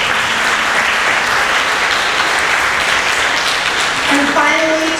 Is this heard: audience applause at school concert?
yes